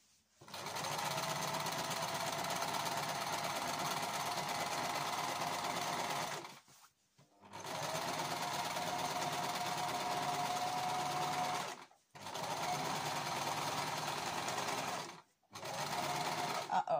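A sewing machine stitches fabric for a tissue pouch in long, steady runs of rapid mechanical whirring, stopping briefly three times between bursts, close and fairly loud with no talk over it.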